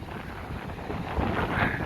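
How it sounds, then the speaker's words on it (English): Steady wind buffets the microphone in a continuous low rumble with gusty swells on the seafront at Blackpool, no voices present. "The sun's out, it's blowy, it's windy"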